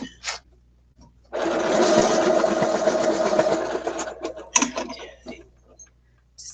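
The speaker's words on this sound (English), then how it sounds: "I'm gonna just sharpen this a little bit and hope that it sharpens without breaking." A pencil sharpener grinds a pale blue pastel pencil in one steady whirring burst of about three seconds, close and fairly loud, framed by a few small clicks and taps.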